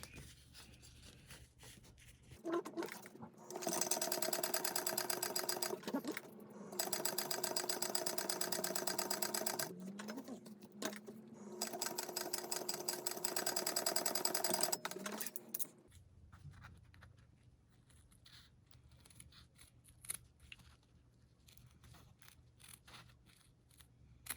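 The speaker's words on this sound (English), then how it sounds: "I'm going to sew from this side so I can see the bottom here." Sewing machine stitching a small fabric bug pack, in three loud bursts of machine running separated by short pauses, followed by quieter handling noises with no talk.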